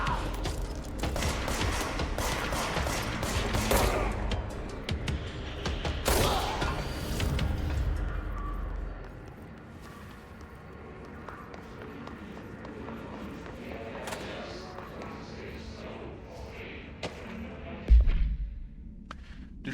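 Gunfire in the video game Control, a burst of loud rapid shots up close in the first eight seconds, then a quieter stretch with scattered thumps and one sharp hit near the end.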